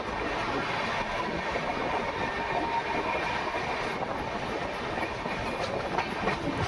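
Rajasthan Sampark Kranti express train rolling past at Makrana Junction, a loud, continuous rumble with steady clickety-clack of wheels over rail joints, sustained throughout with no pauses.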